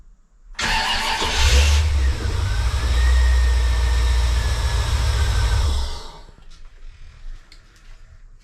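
A Corvette with a newly installed, smaller starter motor cranks and fires, then its engine runs loud and close, idling with a steady rumble for several seconds before cutting off into quiet.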